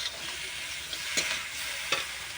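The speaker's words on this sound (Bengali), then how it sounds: "এবারে চিংড়িগুলো দিয়ে দেবো। এর জলটা দিয়ে ভালো করে কষবো।" Prawns fry in a pan and get stirred with their liquid, giving a steady close sizzle broken by a few quick scraping strokes of a spatula, with no talking.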